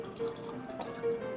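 Beer is poured into a glass, a brief, gentle liquid trickle with faint bubbling tones, quiet and close, with no talk.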